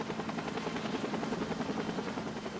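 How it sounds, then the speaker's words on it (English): An air ambulance helicopter flies close by, its steady rotor thrum and engine roar filling the whole stretch at a constant, loud level. "When the air care helicopter got Gilbert to Baptist Hospital, he was barely clinging to life."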